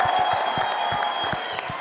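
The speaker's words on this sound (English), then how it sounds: "Round of applause, y'all." An audience crowded into a Fanatics shop event applauds, a steady wash of clapping with soft, regularly spaced low thumps running through it, fairly loud and continuous with no clear talk.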